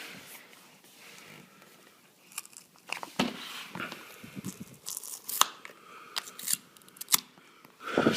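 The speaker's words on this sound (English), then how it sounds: "let's just start off and get rid of this tape" Packing tape is peeled and torn off a Microsoft Surface Pro box at close range, with irregular ripping and crinkling bursts that grow sharper and louder after the first few seconds.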